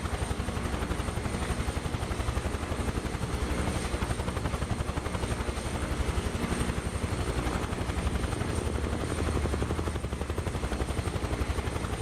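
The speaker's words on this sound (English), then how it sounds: "Helicopter sounds great." Helicopter in Microsoft Flight Simulator 2024, a loud, continuous rotor thump with a steady whining engine drone, even and close, no voices.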